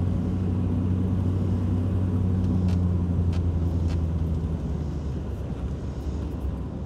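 A car driving on a bumpy road, with a steady low engine and road rumble from inside the cabin and a few faint knocks and rattles, no voices.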